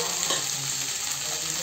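Half a spoon of cumin seeds sizzles in well-heated oil, a dense, even crackling hiss close up that holds steady throughout, with no talking.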